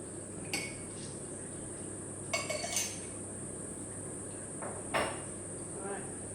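A few sharp glassy clinks and knocks spaced apart over a quiet room hum, with a high steady whine in the background.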